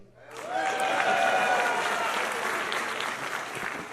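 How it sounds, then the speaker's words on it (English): Crowd applause at a comedy show rises quickly and holds steady, many hands clapping with some cheering voices mixed in, fairly loud and continuous for about four seconds. "Ain't everybody clapping?"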